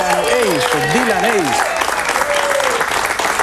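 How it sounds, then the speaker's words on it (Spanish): A television studio audience bursts into loud applause and cheering while swooping, sliding musical tones play over it. "Recibamos con un fuerte y cariñoso aplauso al David Copperfield de Miami, Dylan Ace."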